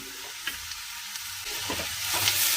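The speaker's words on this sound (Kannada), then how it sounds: "ಮತ್ತೆ ಚೆನ್ನಾಗಿ ಒಂದು ಅರ್ಧ ನಿಮಿಷ ಫ್ರೈ ಮಾಡ್ಕೊಳ್ಳೋಣ" Onions fry in a pan with black pepper powder and turmeric, a constant sizzle that grows louder toward the end, with a few soft spatula scrapes and taps.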